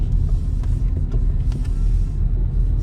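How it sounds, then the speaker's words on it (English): A manual-transmission car creeps over a speed bump, a steady low engine rumble and road noise with faint bumps, loud and close throughout. "clutch up to bite to get me over the bump, smoothly hold the clutch, car's rolling, clutch out."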